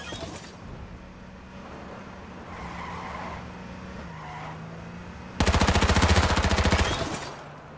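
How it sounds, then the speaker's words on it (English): Assault rifle in the battle-royale game H1Z1 Auto Royale firing a fast automatic burst of about a second and a half, loud and sharp, over a steady engine drone and faint game ambience. "Assault rifle."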